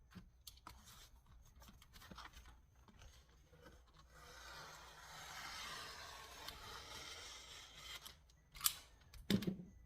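Cutting along a line through a Scotch laminate sheet, a faint, steady rasping scrape that builds through the middle of the cut, with light handling rustles and a couple of sharper clicks near the end.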